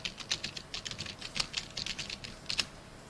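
Steady computer keyboard typing while entering chart series names in a spreadsheet program: a quick irregular run of crisp key clicks with a few sharper strokes, close up and without talk.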